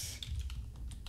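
Quick, steady clatter of keys on a computer keyboard while entering lines for a Minecraft Bedrock scoreboard, close and continuous with small irregular bursts.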